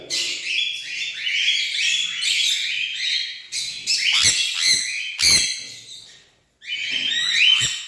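Pet birds in a colony aviary chirp and squawk continuously, a dense overlapping chorus of high calls with sharp louder squawks during a squabble among adults and chicks, close by and with no talk.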